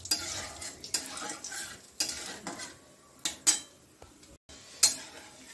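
Peanuts are fried and stirred in a pan for khichuri, with a spoon scraping and clinking against the metal in irregular strokes over a faint sizzle, close and fairly quiet.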